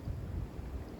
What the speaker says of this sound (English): it's starting to get really cold now that that wind is kicked up